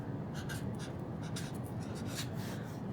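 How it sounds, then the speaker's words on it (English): Pen writing on paper in a quiet setting, a steady close scratching and rubbing with short strokes running continuously without pauses. "I'll write it down here."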